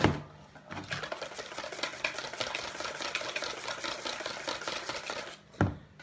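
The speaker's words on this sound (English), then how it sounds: "So mix that together to form a nice smooth batter," An electric whisk mixes pancake batter until smooth, giving a fast, steady whirring and rattling in the bowl that runs for several seconds, with a knock at the start and another near the end.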